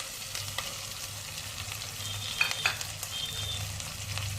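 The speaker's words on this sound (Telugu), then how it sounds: "ఇవి కూడా ఈ ఆయిల్లో బాగా ఫ్రై అవ్వాలి." Coconut powder, red chilli powder, coriander powder and spices fry in oil for a mutton curry with brinjal and mango, a steady soft sizzle running throughout with occasional light scrapes and clinks of stirring, close and moderately quiet.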